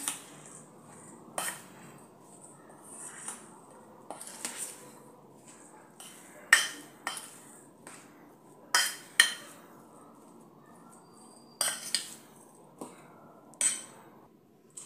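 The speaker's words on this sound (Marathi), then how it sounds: "मिक्स करून घेऊया" A spoon clinks sharply against a bowl while samosa filling is mixed with lemon juice, a dozen or so scattered, close taps and scrapes over quiet room tone.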